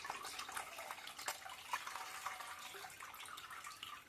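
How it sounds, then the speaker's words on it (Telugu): Butter washed by hand in a bowl of water makes soft, continuous sloshing and splashing, faint and close with small drips throughout and no speech. "శుభ్రంగా వెన్నని ఇలా వాటర్లో కడిగేసుకుంటే మనకి కరగబెట్టేటప్పుడు కూడా మంచి స్మెల్ వస్తుంది."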